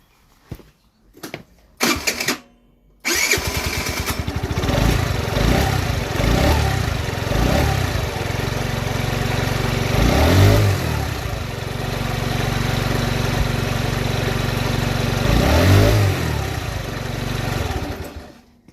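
A Peugeot Kisbee scooter fitted with a new small exhaust sputters through a few brief start attempts, then catches and idles steadily close by. Two throttle blips swell and drop back over the running engine.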